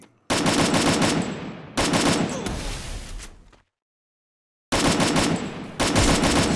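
Rapid automatic gunfire from the video game Free Fire rattles in loud, dense bursts, two back-to-back, a sudden second of silence, then two more sustained bursts.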